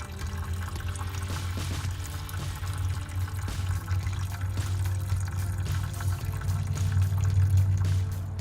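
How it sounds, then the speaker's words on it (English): A steady stream of liquid pours and trickles continuously from the fuel water separator of a 2006 Ford F-250 Super Duty 6.0-liter, recorded under the truck, with a low mechanical hum underneath and no voices. "Draining the oil water separator on a 2006 Ford F-250 Super Duty 6-liter."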